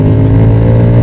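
A Voge FR150 motorcycle engine runs steadily and loud at close range, a dense harmonic drone with no break and no voices.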